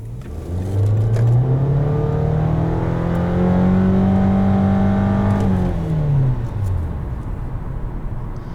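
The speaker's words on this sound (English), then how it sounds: "here's an acceleration in just pure drive." A 2015 Nissan Altima SL accelerates in plain drive, heard from inside the cabin: a loud, steady engine drone rises smoothly in pitch for several seconds, holds, then falls away as the revs ease off.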